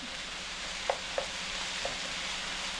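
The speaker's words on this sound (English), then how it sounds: "Just cook it about like 2 minutes or so that the ginger and the garlic kind of" Chopped ginger and garlic cooking in a pan make a steady, even hiss of frying with a few faint soft clicks, and no voices.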